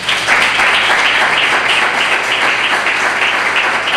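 Loud, dense audience applause for the mayor of Chipiona at an indoor press presentation, a steady sustained clapping without pause and no voices.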